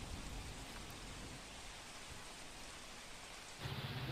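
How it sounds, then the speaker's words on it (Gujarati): Heavy monsoon rain pours steadily at Salaya port in Dwarka during a red-alert storm with gusty winds, a dense unbroken roar of downpour that swells louder near the end. "દ્વારકામાં પણ વરસાદી માહોલ હજુ યથાવત છે"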